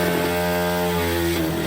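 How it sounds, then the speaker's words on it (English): A Nissan D21 Hardbody pickup truck with a lowered stance revs its engine in neutral for a drop launch, giving a steady, buzzing, harmonic drone that shifts slightly in pitch over a short moment. "Oh, he's neutral dropping it."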